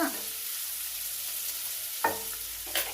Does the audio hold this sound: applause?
no